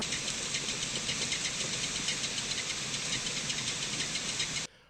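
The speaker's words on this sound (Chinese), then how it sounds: "怠速状态下，车里能明显听到异响，节奏还挺快" A Cadillac car idles with a steady engine hum and a fast, continuous knocking or clunking noise running throughout, loud and unbroken until it cuts off at the end.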